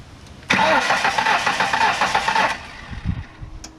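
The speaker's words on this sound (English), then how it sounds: "So we've unplugged both distributor caps and pulled the fuel pump relay. And then we're just gonna let it crank for a minute" A truck engine cranks over with both distributor caps unplugged and the fuel pump relay pulled, a loud rhythmic starter churn for about two seconds that cuts off, followed by fainter knocks.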